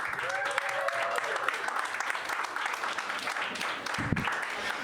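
Audience applause welcoming a comedian to the stage at a live comedy show, dense steady clapping with cheering and a few shouts running the whole length, loud and close.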